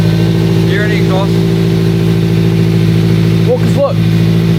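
A daily-driver car fitted with a newly fabricated exhaust runs with a steady, loud, droning engine note throughout, without any clear revving, while people talk over it.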